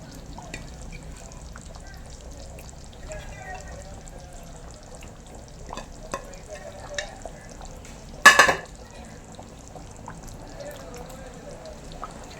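Whole sardines go into a simmering Kerala-style taro curry: low, faint bubbling and soft stirring, broken by one sudden loud splash and clatter midway.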